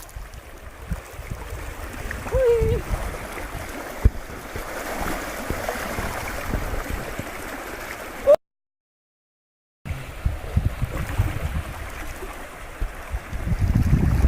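Flood water rushes through a stream after heavy rain in Kohistan, a continuous rough wash of flowing water with gusty, uneven surges and a brief gap of silence midway.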